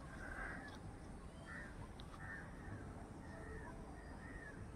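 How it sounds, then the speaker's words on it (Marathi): Crow cawing by a roadside, a few faint repeated calls spaced across a few seconds over steady background noise. "आज आता रस्त्यात बघा कसा पक्षी येतं."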